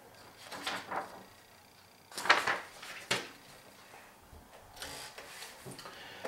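A 1953 Smith-Corona Silent typewriter types out a sample, giving irregular bursts of crisp key clacks and carriage rattles separated by short pauses, close and fairly quiet.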